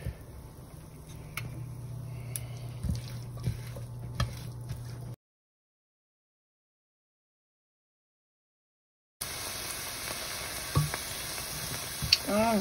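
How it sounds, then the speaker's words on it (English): Onions soften in a pot for black-eyed pea soup with a quiet, steady sizzle and occasional stirring taps, broken by a stretch of complete silence before the hiss resumes, a little brighter and fainter. "saute them up, make them soften a little bit, the onions at least"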